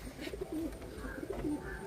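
Pigeons in a loft give soft, low repeated coos, two or three rolling calls at a moderate distance, over a faint background hum.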